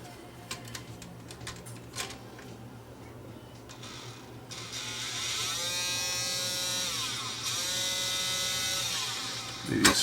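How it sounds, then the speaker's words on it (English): A Toshiba DVD player's disc drawer motor powered straight from an external supply, giving a steady high electric whine that rises and falls in pitch as it spins up and slows, after some faint handling ticks, with no talk. "We'll just put power to this thing directly with that power supply and the motor should spin like"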